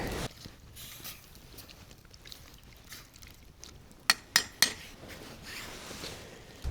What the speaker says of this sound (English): I've got to pull it away from the fire for a second so I can get it all, the meat chopped up and everything mixed in.